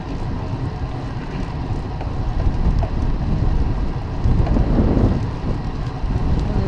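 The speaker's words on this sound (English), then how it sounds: "It's a windy day today." Strong wind buffets the microphone of a cyclist riding a paved road on a warm, windy day, a loud steady low roar with gusty swells throughout and no talking.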